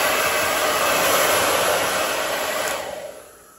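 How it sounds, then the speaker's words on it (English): A hair dryer blows a loud, steady, close rushing whoosh to dry chalkboard paint on a signwriting job, then winds down as it is switched off near the end. "So, with the trusty hairdryer."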